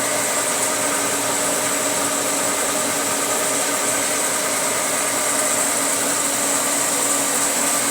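A Kempsmith No.3 universal milling machine runs at about 380 RPM, a loud, steady mechanical drone with a high whine that holds unchanged throughout, with no talk over it.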